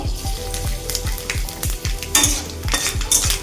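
Panch phoron, a Bengali five-spice mix, fries in hot oil with steady crackling sizzle and a spoon scraping and stirring the pan in a quick regular rhythm, close and alone.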